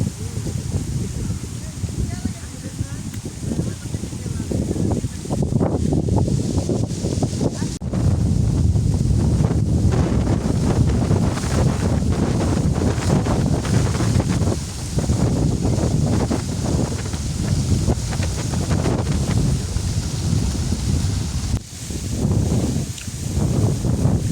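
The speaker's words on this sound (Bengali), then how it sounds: "অনেক বাতাস একদম পানিতেও ঢেউ খেলতেছে" Strong wind blowing across an open river under heavy cloud, a loud continuous roar buffeting the microphone with gusty surges and rustling, close and dense throughout the clip.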